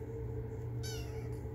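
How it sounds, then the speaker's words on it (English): A single faint, high meow from a small cat, brief and thin, over a low steady background hum. "You say meow?"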